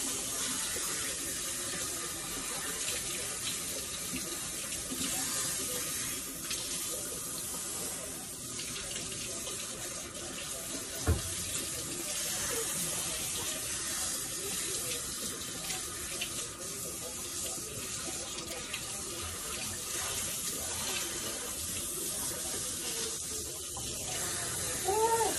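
Tap water runs steadily into a sink while baking soda is rinsed out of hair, a close, continuous splashing hiss throughout with no talking.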